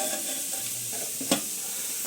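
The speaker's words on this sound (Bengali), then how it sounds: "এখানে আমি বিট গাজর ভাজা বসিয়েছি" Beetroot and carrot fry in a pan with a close, steady sizzle and stirring, plus one brief sharp clack near the end; no voices.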